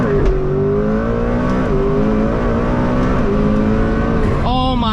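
McLaren Speedtail hypercar in a driving video game, engine note climbing in loud, steady harmonic sweeps through gear changes, with a sharp higher rev surge near the end; a voice talks over it.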